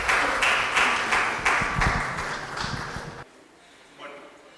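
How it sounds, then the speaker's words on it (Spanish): An audience claps warmly to welcome Dr. Chinchay Castillo at a legal talk, a dense burst of applause lasting about three seconds before cutting off into quiet room noise. "Recibimos al doctor Chinchay Castillo con fuertes palmas"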